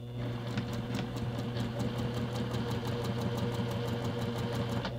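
A sewing machine stitches a leather bag seam with a 1/4 inch allowance, its fast even needle clatter running steadily over a low motor hum, close and alone.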